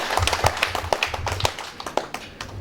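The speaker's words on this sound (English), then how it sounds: "You can clap for the guest of honor." An audience at a Uganda African Traditional Medicine Day event claps for an arriving guest of honor, a fairly brief, close patter of hand claps with irregular rhythm and moderate loudness, no talking.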